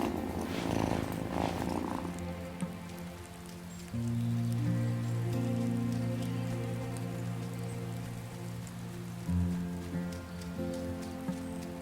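A cat purrs in the video game Wylde Flowers, a steady low rumbling purr lasting several seconds beneath a soft rain-like ambient wash, with no talking.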